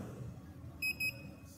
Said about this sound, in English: The beep of the tool indicates that it's read the sensor.